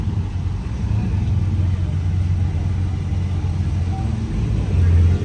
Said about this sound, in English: We got this Chiron coming out right now.